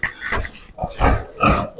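Pigs in a new barn shed grunt and snort close by in several bursts, short rough grunts repeating with brief pauses between them, with no talk over them.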